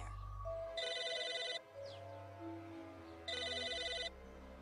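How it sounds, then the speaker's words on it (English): A telephone rings in Psychonauts, two bursts of rapid electronic trilling separated by a pause of over a second, fairly loud over a low game ambience with no one talking. "It's a phone"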